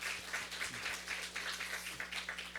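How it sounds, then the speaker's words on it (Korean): Church congregation applauding during a Sunday worship service, a steady wash of many hands clapping at moderate distance, fairly faint and continuous without talk. "박수."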